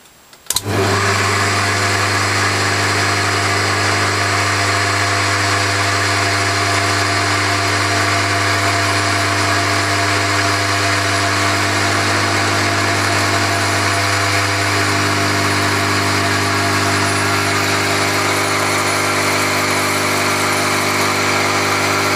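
A lathe turns an aluminium-style intake manifold part for an 8HP Briggs engine, a steady loud mechanical whine and hum running continuously throughout, with the cutting texture easing partway through.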